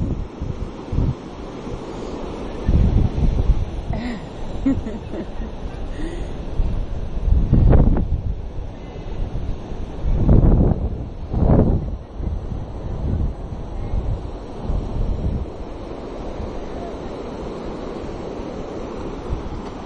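Ocean surf rolls onto a beach in continuous wave wash, with louder crashing surges and steady wind buffeting the microphone throughout.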